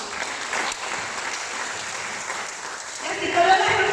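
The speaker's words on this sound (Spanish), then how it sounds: "e demos la bienvenida a la licenciada Joana, con un fuerte aplauso por favor." A room full of people at a conference claps steadily and warmly, and a voice begins speaking over the applause toward the end.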